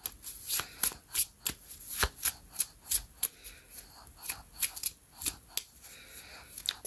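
A deck of reading cards is shuffled in quick, evenly spaced riffles, each a crisp, close flutter of card edges, repeating about a dozen times with short pauses between.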